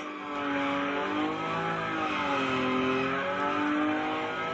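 A Nissan Nismo car in The Crew Motorfest, sliding on a dirt drift track at high speed, gives a continuous loud engine drone whose pitch rises and dips as it revs and holds throttle, heard alone.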